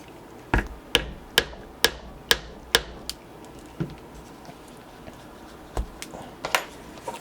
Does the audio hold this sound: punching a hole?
yes